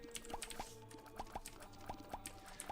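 Coins drop and clink in The Binding of Isaac, a quick series of bright metallic plinks landing every fraction of a second at a steady, slightly irregular rhythm over faint game music.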